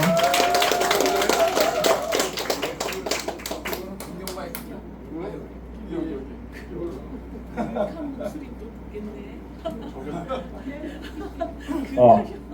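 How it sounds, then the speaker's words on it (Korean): A crowd at a political party event claps in a dense burst of applause that fades after a few seconds, followed by murmuring, scattered chuckles and talking. "여러분 큰 박수로 환영해 주시기 바랍니다"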